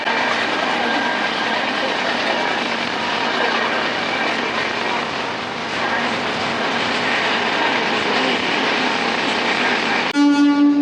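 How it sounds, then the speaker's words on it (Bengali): A DMU train entering Kishanganj station in Bihar, heard as a steady loud rumble of diesel engine and rolling wheels that holds evenly, ending with a brief tonal horn-like note. "অদ্ভুত দর্শন এই ডিএমইউ ট্রেনটি দেখেছিলাম বিহারের কিষানগঞ্জে ঢুকছে।"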